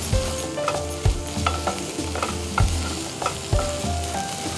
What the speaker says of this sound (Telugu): అల్లం ముక్కలు కూడా బాగా వేగాలి.